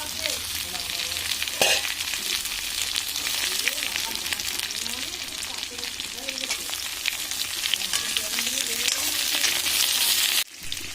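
Green banana and vegetable stems fry with onions in a pan, giving a steady loud sizzle with scraping stirs throughout and a brief clatter near the end; no voices.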